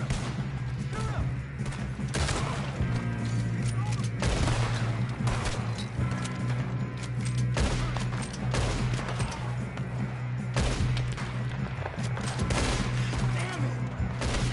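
Rapid bursts of gunfire in a Red Dead Redemption 2 shootout, loud repeated shots cracking in quick clusters over a steady low rumble, with a voice talking briefly amid the fire.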